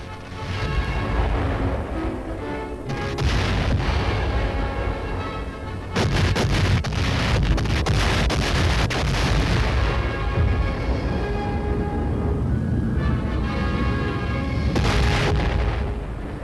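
Heavy naval and air bombardment of Okinawa in WWII: loud, continuous booming blasts and rumbling explosions, dense and sustained throughout with several sharper bursts, and no speech.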